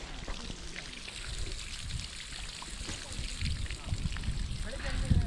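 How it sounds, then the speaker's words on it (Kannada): Borewell water pours and trickles in a steady, faint stream at a village near Hampi, with a soft splashing texture and indistinct voices in the background. "ಇದು ಬೋರಿದೆ ನೀರು"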